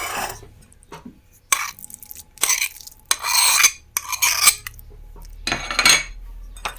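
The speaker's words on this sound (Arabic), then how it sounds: "نحركوا في الحشو تاعنا" A spoon stirring a chicken and carrot börek filling in a pot, several separate scraping, clinking strokes against the metal with short pauses between them, close and fairly loud, no talk.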